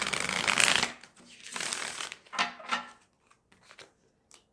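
Tarot cards are shuffled with a dense riffling burst, followed by a few softer shuffles and light taps that trail off into quiet.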